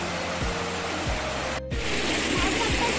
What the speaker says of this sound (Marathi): नदीचा खळखळ आवाज खूप छान वाटतो कानाला